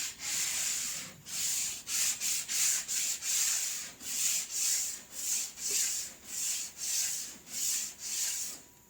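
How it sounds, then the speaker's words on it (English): Someone hand-sands a car fender flare on a 2006 Mazda Speed 6 with 150 grit sandpaper, producing about fifteen rhythmic hissing back-and-forth strokes, close and loud, with short pauses between them. "Let's get us some lighter sandpaper."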